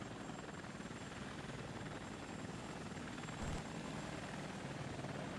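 Chinook and Cobra helicopters in the Air Conflicts: Vietnam video game give a steady, continuous rotor and engine drone that stays close and even throughout, with no talk.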